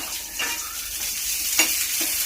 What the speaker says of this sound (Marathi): आता याच्यामध्येच मी हे आलं आणि लसूण पण भाजून घेणार आहे हलकं